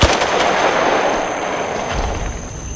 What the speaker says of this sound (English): Oh, we're taking fire now.